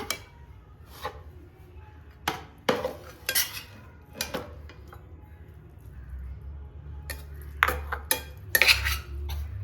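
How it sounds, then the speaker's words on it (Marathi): Modak filling (saran) is scraped from a pan into a vessel for cooling, with repeated metal utensil clinks and scrapes, close and fairly loud, scattered across a quiet kitchen background. "आता हे आपण सारण थंड करण्यासाठी एका भांड्यामध्ये काढून घेऊया."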